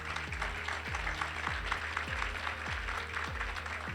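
Audience applause at a direct selling talk, a steady wash of many hands clapping that holds evenly throughout, with a low rhythmic thumping underneath.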